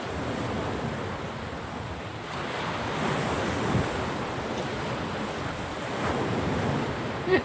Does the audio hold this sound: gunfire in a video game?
no